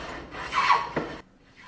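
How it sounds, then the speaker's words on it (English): A hand plane takes a single quick rasping stroke along a wooden plank for an easel, a brief close scrape that cuts off abruptly. "I think I'll plane them away for the easel so that the easel can have a fresh and consistent look"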